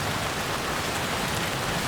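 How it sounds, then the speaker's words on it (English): Steady broadband rain texture from the sound design of a Porsche Taycan car commercial, an even, dense patter of drops heard alone at moderate level with no talk. "But there's just some really nice kind of rain texture here."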